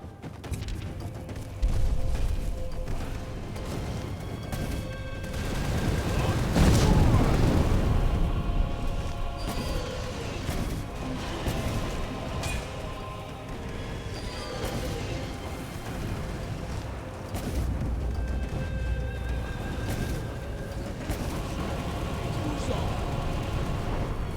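Meteor spell explosions in the video game Skyrim boom and rumble in heavy, rolling bursts, with one large blast peaking midway amid continuous fiery roar, and a voice speaking over parts of it.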